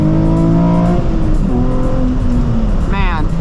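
A Nissan 350Z HR fitted with a Megan Racing exhaust revs and pulls, engine tones rising and shifting in loud, close sweeps, with a brief higher whine near the end.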